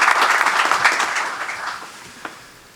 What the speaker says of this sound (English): Join me in giving them a hearty round of applause.